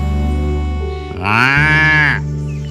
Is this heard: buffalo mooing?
yes